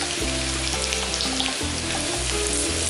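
Finely chopped garlic and lemongrass frying in hot oil, a steady dense sizzle running loud and close without pause over a low hum, with no voices.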